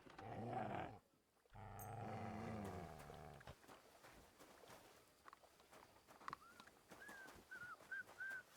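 The dog Mutt in Kingdom Come: Deliverance II gives a low growl at the start, then fades into quieter footsteps and scattered faint whistling, rustling ambience.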